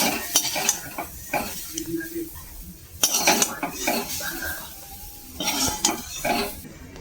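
Fried carrots are lifted out of a pan with a metal utensil, making repeated clinks and scrapes of metal on the pan over a soft underlying sizzle, close and loud with no talking.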